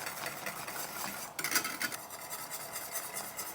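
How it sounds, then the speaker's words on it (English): Fine polenta being whisked in a pot, a bright, rapid scraping and rustling of the whisk that turns louder and busier midway before settling back to a steady stir, no voices. "Start to whisk just a little bit in. Just making sure there's no clumps."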